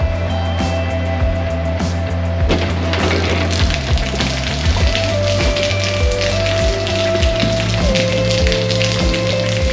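Rain pours down on a coastal highway beside parked Harley-Davidson motorcycles, a steady close patter of drops with a low hum underneath and no voices.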